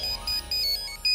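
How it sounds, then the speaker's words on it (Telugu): A mobile phone ringtone plays in bursts of repeating electronic tones, fairly close and clear, with short gaps between the rings and no talking. "ఏదో ఫోన్ వచ్చింది"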